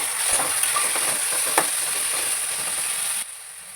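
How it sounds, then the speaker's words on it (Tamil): Onions and tomato sautéing in a pan give a soft, steady sizzle with a few faint stirring clicks, close by with no talking, before the sound drops away near the end. "இந்த அளவுக்கு வதங்கிட்டு இப்போ நம்ம தக்காளி சேர்த்துக்கலாம்"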